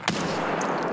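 Gunfire in Escape from Tarkov: one sharp shot at the start, then a dense, sustained burst of loud noisy rattle filling the rest of the moment, with no talk.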